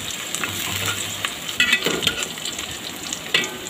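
Onions fry in a pan for a katla fish curry, giving a steady, bright sizzle broken by a few sharp scrapes and clacks as they are stirred.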